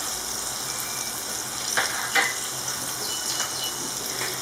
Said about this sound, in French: Je laisse mijoter un petit moment.